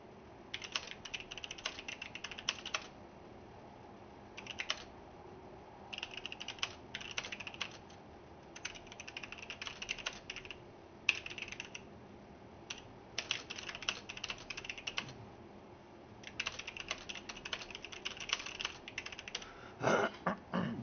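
Fast typing on a computer keyboard, bursts of close, crisp key clicks in irregular clusters separated by brief pauses, continuing for about twenty seconds with light room noise between.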